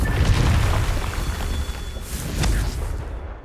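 Confringo fire spell blasting in Hogwarts Legacy, a deep booming explosion with a bright crackling burst and a second whooshing impact, moderately loud.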